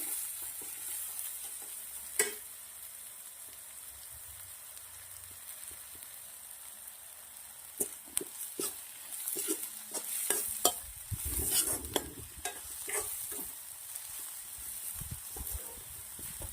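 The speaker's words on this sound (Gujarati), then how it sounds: "ધીમા તાપે આપણે લસણને પહેલા તળવા દેશું" Garlic sizzles softly in oil over low heat while cooking a green garlic curry, a quiet steady hiss broken by scraping stirring strokes and small pops.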